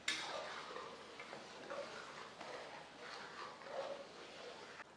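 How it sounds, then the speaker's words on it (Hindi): Mutton being stirred and sautéed with masala paste in a pressure cooker over a medium flame, giving soft continuous scraping and light sizzle with occasional utensil taps, steady and close. "फिर भुनाई करेंगे 3 से 4 मिनट।"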